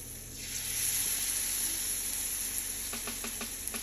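Banana fritter batter sizzles steadily in a pot of hot oil, a close, even hiss with faint clinks of a spoon near the end.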